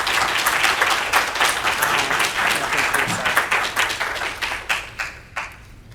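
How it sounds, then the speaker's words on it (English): A crowd applauds guests at a college panel discussion, with loud, sustained clapping that thins into a few scattered claps before fading out. "please give these gentlemen a round of applause for being here"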